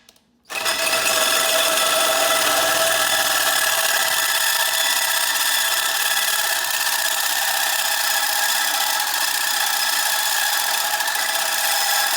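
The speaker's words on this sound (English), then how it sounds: "I'm just about to start the drilling part" A loud, continuous high-pitched whine of a power drill starts abruptly and runs steadily, grinding into a metal motorcycle exhaust on a Yamaha FJR1300.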